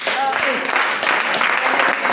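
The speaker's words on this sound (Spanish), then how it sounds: "Un aplauso al Señor" A church congregation at a Christian women's congress applauds steadily, a dense, even wash of clapping that holds for the whole two seconds with voices mixed in.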